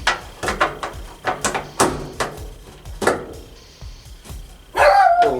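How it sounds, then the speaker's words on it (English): A dog barks in a rapid series of sharp, fairly close barks with short pauses, followed by a brief burst of other sound at the end. "And the dog's barking at something."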